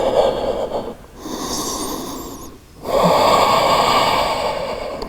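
Steady, loud breathing during a yoga hold, with long airy inhales and exhales close to the mic and two brief pauses between breaths.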